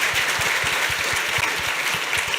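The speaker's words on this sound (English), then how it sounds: "just give them a round of applause for that" An audience gives a round of applause at a talk on Tesla electric vehicle history, a dense and steady clapping that stays fairly loud throughout.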